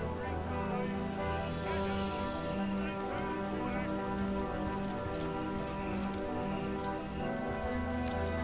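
Steady rain downpour in the fantasy role-playing game Divinity: Original Sin, a constant dense patter of drops under a layered musical and ambient game soundscape, even in loudness throughout.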